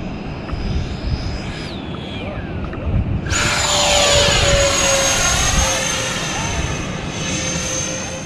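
A small model airplane flies in on approach to land short on a runway, its engine a steady whine whose pitch shifts as it passes fairly close, with wind noise throughout.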